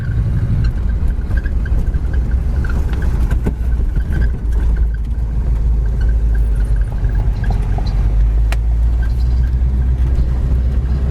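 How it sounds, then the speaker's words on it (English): A 1979 Pontiac Trans Am engine idles with a loud, steady, close low rumble and a few faint clicks and rattles, with no talk. "Car seems to idle well. It's idled really well sitting there."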